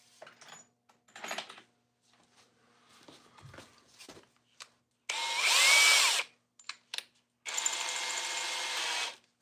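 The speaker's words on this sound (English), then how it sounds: "The very exclusive black Ryobi drill." A black Ryobi drill backs out a stuck timber lock screw in two loud, sustained whirring bursts, with scattered knocks, shuffling and clicks in a quiet space in between.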